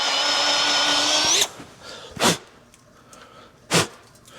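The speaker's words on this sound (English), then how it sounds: "Don't advise starting with a 5/16 bit, but I was also just bragging to you how good these drill bits are." A power drill with a 5/16 bit bores into a metal fender frame mount on a chopper, a loud high whine that runs steadily and then stops abruptly, followed by two short bursts of squeal or scraping.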